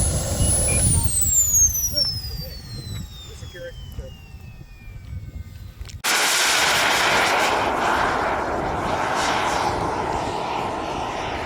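A turbine-powered model jet aircraft roars past, its whine sweeping downward as it flies by, followed by a sustained loud, broadband rush of engine noise close by.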